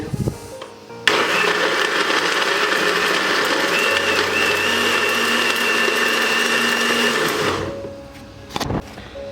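A blender whirs loudly and continuously, blending leftover fruit and vegetables for juice a second time; the motor starts abruptly, runs steadily for several seconds, then winds down and stops.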